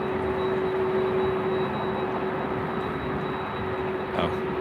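A Boeing 767 airliner at LAX holds a continuous engine drone with a steady tonal whine, moderately loud and distant, heard alone without speech.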